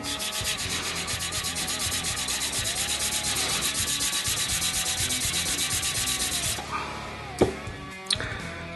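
A steel wakizashi blade being sanded to remove dye and scratches, a steady loud grinding hiss with a fast pulsing rhythm, close up, stopping near the end with a couple of sharp knocks.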